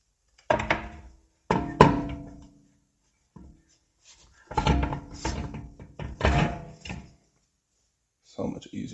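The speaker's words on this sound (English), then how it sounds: "let's put these wheels on" BMW wheels lifted and mounted onto wheel studs during a stud conversion, giving several close, heavy metallic thunks and scrapes in separate bursts with short pauses between them.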